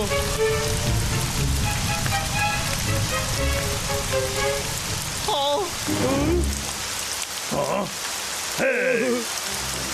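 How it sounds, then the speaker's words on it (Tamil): Rain pours in a Tamil cartoon, a dense, steady patter throughout, with cartoon voices and sliding sound effects breaking in over the second half. "ஐயா, மழை பெய்யுதுடா."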